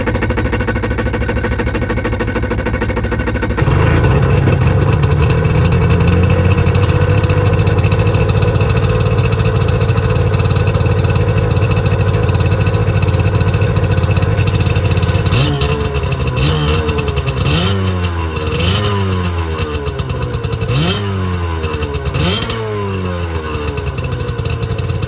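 A Waverunner jet ski engine runs loud and close, starting with a rough idle before settling into a steady drone. Near the end it revs in repeated rising and falling surges.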